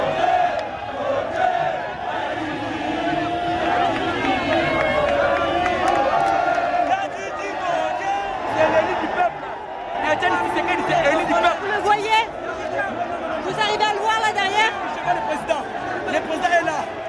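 A dense crowd of militants greets Étienne Tshisekedi's motorcade along the road from the airport in Kinshasa, with sustained loud chatter, shouting and cheering that swell in waves throughout.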